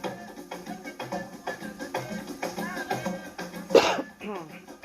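A single short, sharp cough cuts through a stretch of talking, close and fairly loud.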